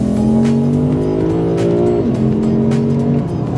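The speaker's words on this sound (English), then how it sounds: "This is the new Lexus IS500." A Lexus IS500 with a 5-litre naturally aspirated V8 is driven hard, its loud engine note climbing steadily in pitch as it accelerates, then dropping briefly at a gear change before rising again.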